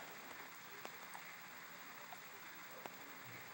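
Quiet, steady rainfall in SurvivalCraft, a soft continuous hiss of drops with a few faint ticks, heard alone without voices.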